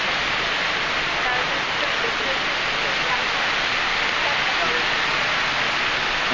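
A waterfall splashing into a resort pool in Punta Cana, making a dense, steady rush of falling water close by and fairly loud, with no pauses.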